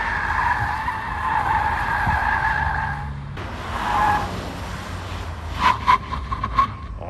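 A Hyundai Sonata N Line driven hard through a gymkhana course in sport mode, with sustained loud tire squeal and skidding through the corners, engine noise underneath and sharp screeching bursts near the end.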